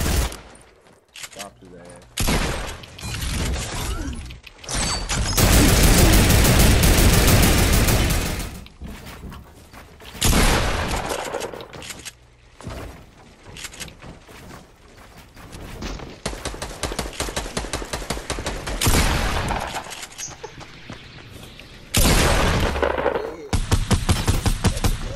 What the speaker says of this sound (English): Should take out a scar. Oh, that submachine gun.